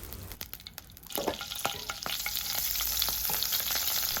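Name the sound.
oil and butter sizzling in a pan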